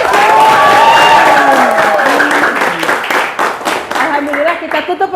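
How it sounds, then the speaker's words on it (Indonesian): Clapping from a class audience closes a teacher-training lesson session, building under a speaking voice and growing into scattered, uneven claps toward the end. "Boleh tepuk tangan untuk kita semua."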